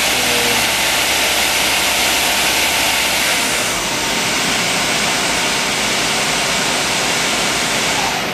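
A Mighty Viper VT25BL machine runs steadily at 2,000 RPM, giving a loud, continuous broadband roar with a constant mechanical hum that shifts slightly partway through.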